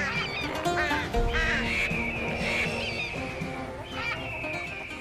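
A gathered flock of birds calls noisily in an animated story scene, with overlapping honking, quacking and cawing cries rising and falling continuously at close range.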